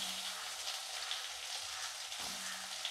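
Chopped onion fries in a pan with a steady, close hiss and crackle of sizzling oil throughout, no talk.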